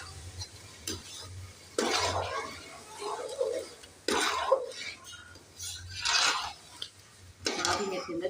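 A spoon works through ground pumpkin for kaddu halwa in a pot, giving repeated scraping, swishing strokes in uneven bursts of a second or two, fairly quiet and close.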